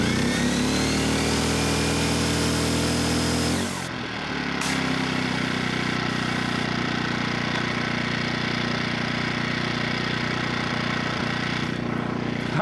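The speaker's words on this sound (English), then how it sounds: "You can hear how loud the generator pops up, but it is running the pressure washer" A 1200 watt generator runs hard while powering a Ryobi 1800psi electric pressure washer, a loud steady engine drone with a sudden shift in pitch and load around four seconds in, then continuing as a dense, even roar.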